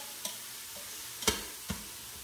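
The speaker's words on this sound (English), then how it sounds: "we're just gonna take the ground beef and you just gonna cook this up" Ground beef browning in a Gourmia electric pressure cooker gives off a low, steady sizzle, broken by three sharp scraping clacks of a utensil stirring against the pot.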